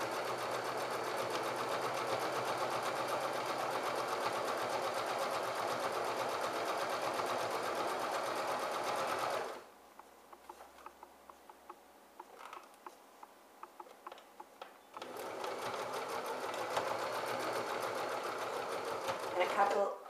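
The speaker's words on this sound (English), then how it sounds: "sew along the bottom. Just do a couple of reverse stitches so that the stitching doesn't come undone." A sewing machine stitches slipcover fabric for a chair in a close, steady whir, running continuously for about nine seconds, pausing for a few seconds of quiet clicks and handling, then resuming its even motor drone.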